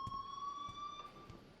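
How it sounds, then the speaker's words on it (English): An alarm rings steadily in the video game Life is Strange, a continuous high electronic tone with faint pulsing over a dim background. "please turn off that alarm since that's your job"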